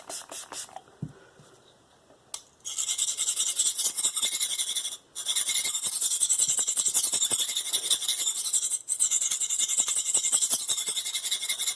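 A knife is sharpened on a 240 grit aluminum oxide stone, making rapid, rhythmic gritty scraping strokes that run close and steady for several seconds, with brief pauses between passes.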